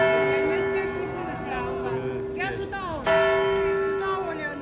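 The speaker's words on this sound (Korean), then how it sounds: "종소리가 은은하게 들려오는데" Clock tower bells in Bern ring out on the hour, a loud resonant tolling with long ringing overtones, sounding again partway through under the chatter of a gathered crowd.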